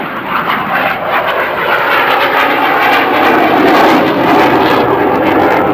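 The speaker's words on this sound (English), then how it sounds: "we'll watch as the airplane lifts off" A loud, steady roar of a jet aircraft engine taking off at an air show, broad and continuous throughout, with no voices.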